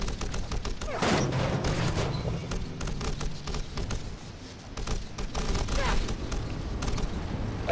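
An explosion in the Catwoman movie video game on GameCube, heard as a dense rumbling burst with crackling debris layered over game sound, swelling again toward the end, while someone talks throughout.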